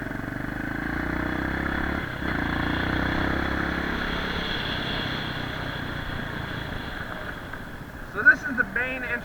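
A Qlink motorcycle cruises through a campground toward its main entrance, a steady engine drone with wind rush running throughout; near the end someone speaks over the riding noise.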